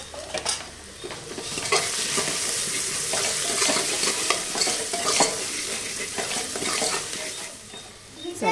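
Asafoetida sizzles in hot oil in a pan while pav bhaji is cooked, a steady close frying hiss broken by scraping and stirring clatters of a spoon throughout.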